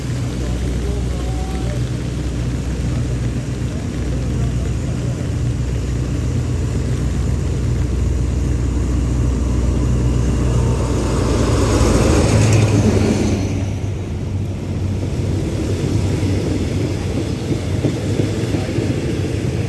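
A train pulls into Ban Pong station in Thailand during heavy early-morning rain. A steady, loud wash of rainfall covers a low engine rumble that swells briefly and then settles back into the downpour.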